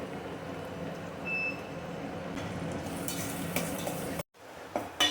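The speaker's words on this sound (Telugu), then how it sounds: "ఈ విధంగా గోల్డ్ కలర్ వచ్చేదాకా వేయించుకోవాలి ఉల్లిగడ్డను" Salted onions frying in a pan toward golden for fish curry, a low, fairly faint continuous sizzle with light stirring scrapes, a sudden brief drop to near silence, then the sizzle returning with a couple of louder knocks.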